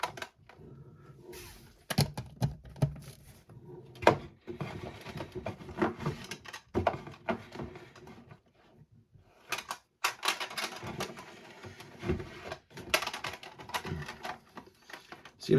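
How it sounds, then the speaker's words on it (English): Graded card slabs being pulled from their packaging with inserts popping out alongside, a series of close plastic clicks, taps and rustling scrapes in irregular bursts with short pauses between. "All the inserts are popping out with the cards when I pull them"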